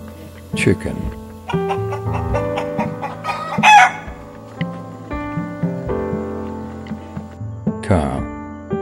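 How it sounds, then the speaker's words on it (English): A rooster crows loudly and chickens cluck in short bursts, set over steady background music, with a few sharp crowing peaks standing out. "Chicken."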